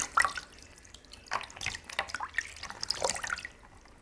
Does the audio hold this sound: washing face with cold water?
yes